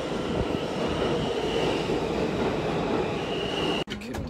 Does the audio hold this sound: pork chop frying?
no